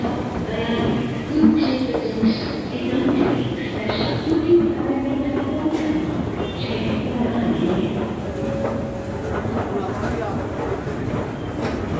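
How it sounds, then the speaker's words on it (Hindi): Busy platform ambience at New Delhi railway station, with a steady crowd murmur, rumbling trains and scattered clanks, and people talking throughout. "आपको दिखाते हैं रेलवे स्टेशन नई दिल्ली"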